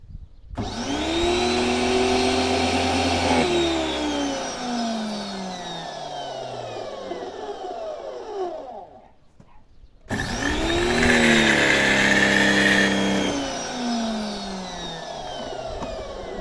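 A new high-pressure washer motor whines up to speed and then winds down, goes briefly silent, and starts again with a loud, steady close drone.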